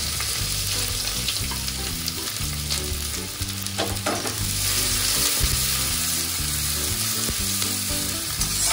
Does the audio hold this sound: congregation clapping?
no